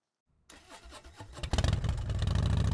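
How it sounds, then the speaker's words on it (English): A motorcycle engine cranks with a few rhythmic turnovers, then catches and roars into a steady, loud idle close by. "go ahead and test the bike to make sure that it starts"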